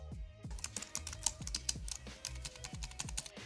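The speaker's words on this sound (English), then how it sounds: "click on Type Tool and type out Relationship Coach" Rapid keystrokes on a computer keyboard, a steady run of close, crisp clicks at an even pace, fairly quiet with no voices over them.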